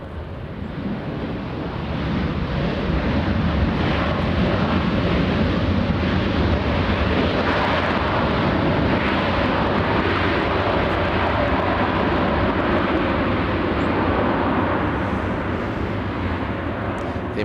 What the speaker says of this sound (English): The American Dreamliner from Japan.